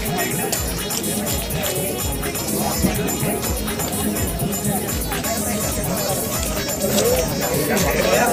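A big Independence Day crowd of tourists at the Love Jawhar viewpoint in Jawhar. Loud, continuous outdoor babble of many voices and shuffling movement, with people chatting close by.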